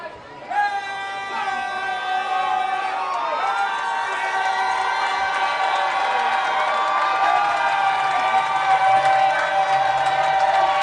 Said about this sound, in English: Crowd getting louder.